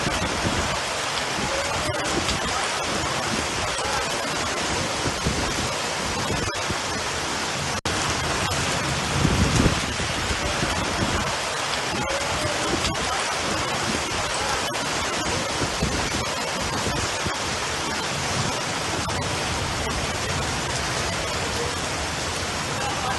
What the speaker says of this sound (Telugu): హైదరాబాద్ లో వర్షం పడుతోంది